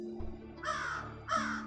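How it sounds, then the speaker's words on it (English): Two harsh crow caws from birds perched on a branch, each a short rasping call, the second following about half a second after the first, heard over a faint low background hum. "Screeched the crows on the branch like they had seen something out of the norm."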